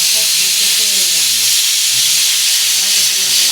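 Dal simmering in a pot on a home stove during morning cooking, a steady broadband steam hiss running throughout with soft bubbling underneath, fairly close and constant.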